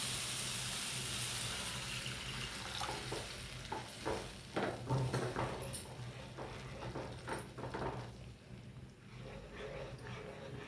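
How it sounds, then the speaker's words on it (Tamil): Water poured into a simmering pan of egg masala gravy, a soft splashing and bubbling wash with faint stirring scrapes and sizzle, steady and close, no one talking. "எனக்கு தேவையான அளவு தண்ணி ஊற்றிக்கிறேன்"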